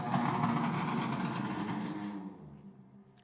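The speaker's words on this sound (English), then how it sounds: "That was someone on a bike really loud." A loud motorbike engine passes outside, a broad roar that holds steady for about two seconds and then fades away as it moves off.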